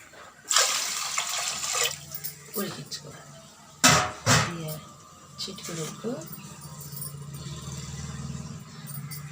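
Rice is washed by hand in water, splashing and swishing in bursts, with sloshing and dripping sounds between quieter pauses.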